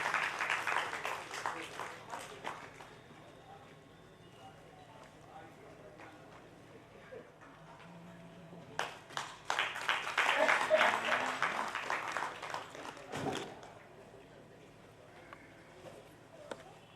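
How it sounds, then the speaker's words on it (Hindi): An audience at a Hindi book launch and poetry gathering claps in scattered bursts, a short round at the start and a fuller one midway, with people talking over a quiet hall in between. "आपसे तालियां आपसे निवेदित हैं।"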